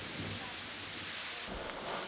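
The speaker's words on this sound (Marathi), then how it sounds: "नाशिकच्या मनमाडमध्ये विजांच्या कडकडाटासह जोरदार पाऊस झालेला आहे" Heavy rain falling in Manmad, Nashik, during a thunderstorm, a dense steady roar of downpour close by that fills the whole stretch with a slight shift midway.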